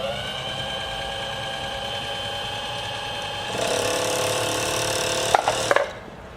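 A SAMB-2 sewing machine's bobbin winder runs with a steady mechanical whir that grows louder partway through, followed by a few sharp clicks as it stops.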